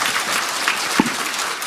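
Applause from the audience at a Democratic Party new-member academy lecture in Korea, a brief, dense burst of many hands clapping at steady loudness.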